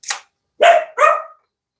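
A dog barks three times, a short yelp followed by two fuller barks close together, loud and near in a quiet indoor home.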